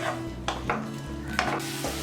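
Roughly chopped onions sizzle in melted butter in a pan, a loud steady frying hiss broken by a few sharp stirring scrapes and knocks, with no voices.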